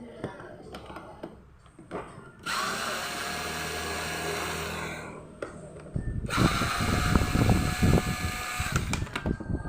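A power drill backs two screws out of a small Magicom rice cooker in two sustained, close-up whirring bursts, with quieter handling noise before and between them.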